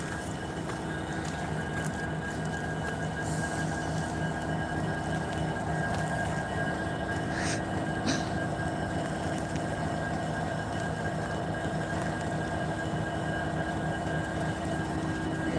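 A continuous low rumble and rolling clatter of a passing freight train at Thurmond, West Virginia, steady and fairly loud throughout with a few faint squeals.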